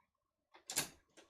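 A card-making die-cutting machine starts up with a brief mechanical whir and clunk, a short close burst followed by a smaller judder, alone in a quiet room.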